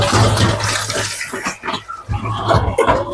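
Cut potatoes are washed in water: close, continuous sloshing and splashing with steady rushing water throughout, briefly easing halfway through.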